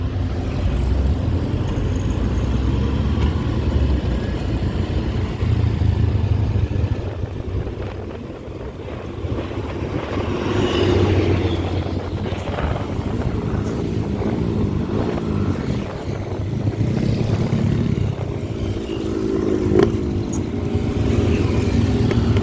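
Motorcycle ridden along a mountain road toward a flash-flood site in West Sumatra, engine droning steadily and rising as it accelerates, with wind buffeting the microphone throughout.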